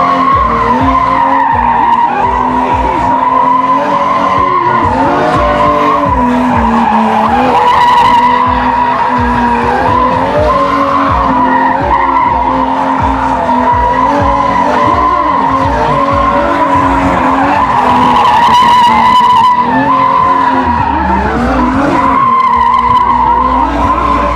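Continuous loud tire screech from a car drifting at a motor fest, sustained and wavering for the whole stretch with engine roar underneath, crowd noise faintly mixed in.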